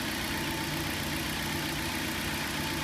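A car engine idles steadily with a small air leak, a constant close mechanical drone with a faint ticking pulse and no voices.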